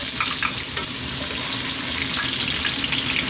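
Onion drops into sunflower oil in a copper pan over maximum heat, producing a loud, steady sizzle of frying that holds throughout.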